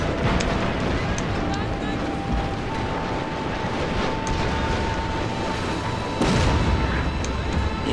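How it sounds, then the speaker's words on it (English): Ironclad warships trading Gatling gun fire at close range in a Shogun 2 naval battle, a dense rumbling wash of rapid shots and booms beneath someone talking throughout. "It looks like two Ironclads using Gatling guns against each other."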